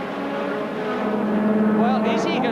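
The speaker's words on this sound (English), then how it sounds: "the V8 Chevrolet with its 500 horsepower engine, is going to be scything its way through" A 500-horsepower V8 Chevrolet race car engine drones at Brands Hatch during a 1985 Thundersports Trophy race, a steady loud roar that rises slightly in pitch, under a commentator's voice.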